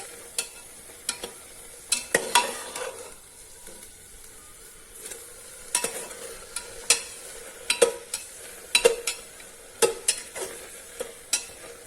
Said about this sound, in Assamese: তাৰপিছত আকৌ অলপ টাইম এনেকৈ লাৰি থাকিব লাগিব।